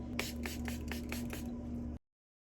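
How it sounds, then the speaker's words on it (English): A spray bottle of rose water mists in a quick series of about six short, soft hissing puffs, close by, then stops abruptly. "So I'm gonna go ahead and spray my face."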